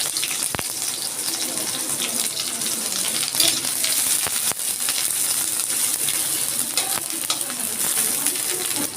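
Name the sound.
garlic and onion frying in hot oil in a wok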